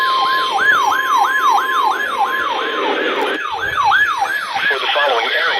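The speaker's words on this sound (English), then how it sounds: "My first toned high wind warning since 2017!" Emergency Alert System tone broadcast over NOAA weather radio for a high wind warning in North Carolina: a loud, warbling, wavering electronic siren-like tone cycling rapidly and continuously, with a steady high whine underneath.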